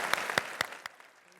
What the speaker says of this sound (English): Let's end with a round of applause.